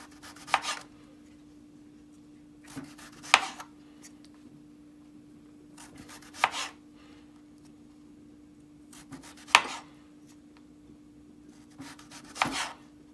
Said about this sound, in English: So let's get this thinly sliced.